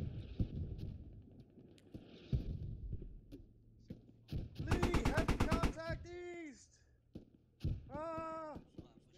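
A sharp automatic burst of video game gunfire lasting about a second in the middle, surrounded by quieter clatter and shouted voices.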